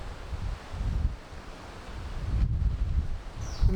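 Gusting wind on the coast buffets the microphone in low rumbling surges, rising and falling over a few seconds.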